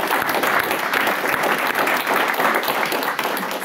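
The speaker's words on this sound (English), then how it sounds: "I think we should give them a great round of applause" An audience applauds after presentations at an innovation event, a loud, continuous and dense clapping sound filling the whole stretch without letting up.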